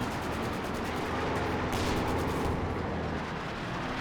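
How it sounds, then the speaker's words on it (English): A Company of Heroes 2 battle rages with mortar fire striking units. Dense, constant booms and crackling gunfire fill the whole stretch at an even loudness, with one sharper burst near the middle. "Great mortar hit on the Pest Cruisers, forcing him back."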